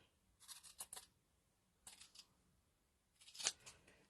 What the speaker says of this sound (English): Let's fold this in half like this. And cut this off like this.